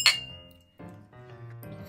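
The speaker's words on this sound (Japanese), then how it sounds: "乾杯" Glasses clink together in a toast at a beer-and-snacks tasting, one bright near clink at the start followed by a low murmur of quiet room sound.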